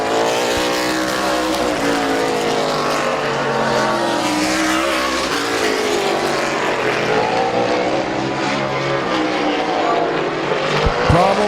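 Race cars scream around a Midvale Speedway oval, loud engines rising and falling in pitch as they pass, layered revving close by, while an announcer talks faintly beneath the roar.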